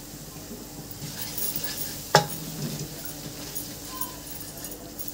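Flour being stirred with a spoon as it fries over a low flame in a pan, giving a soft, steady scraping and faint sizzle, with one sharp clink of the spoon against the pan midway.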